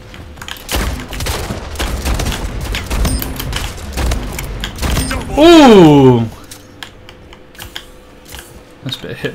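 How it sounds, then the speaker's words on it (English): Hip-fire gunshots ring out in the video game Splitgate as rapid, loud, sharp bursts of gunfire through most of the stretch, with a person briefly exclaiming over the shooting partway through. "Nice bit of hip fire in there."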